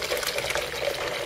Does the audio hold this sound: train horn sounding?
no